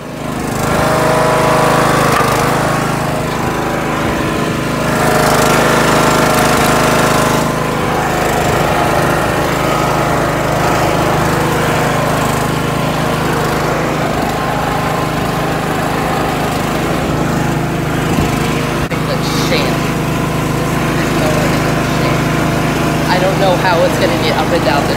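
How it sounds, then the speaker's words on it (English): A small lawn mower engine drones steadily while towing a heavy load of over 100 pounds toward a mud pit, loud and close throughout with a constant engine hum, and voices talk over it. "A lot of weight for a little mower."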